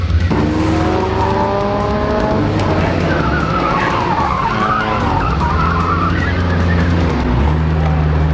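Race cars at a night-of-destruction skid plate race roar away at the start, engines revving loudly with rising harmonic whine, tyres skidding and squealing over a dense, constant wash of crowd and track noise.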